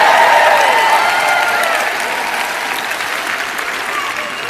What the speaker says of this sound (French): Je vous prie d'applaudir un peu plus fort, cela m'aidera.